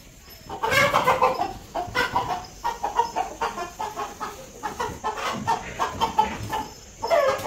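Chickens cluck and squawk close by in a farm setting, with a series of irregular, fairly loud bursts and short pauses between them.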